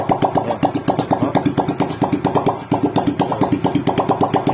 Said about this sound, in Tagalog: Pinapaandar ko lang ng walang tambutso para sigurado akong malinis yung usok